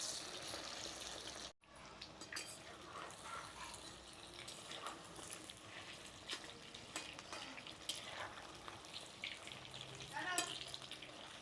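Chicken pieces for chilli chicken fry in hot oil with a faint, low, continuous sizzle, broken by a brief silence near the start; there are occasional small clinks.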